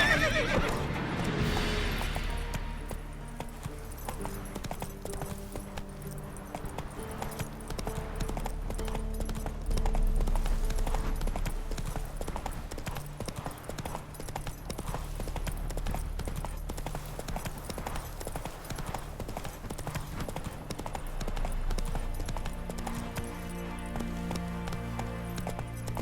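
Horse hooves clip-clop at a steady gallop in The Witcher 3, with occasional whinnies, under continuous game music and ambience for the whole stretch.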